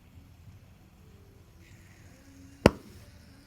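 Hydrogen gas from zinc reacting with hydrochloric acid ignites with a single sharp, loud pop near the microphone, standing out against a quiet lab background hiss.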